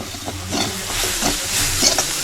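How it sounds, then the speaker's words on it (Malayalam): Coconut, cumin, garlic, green chili and curry leaves being stirred in a pan, a steady sizzle with soft scraping strokes of the spoon close by, no voices. "വെറുതെ ഇളക്കാം."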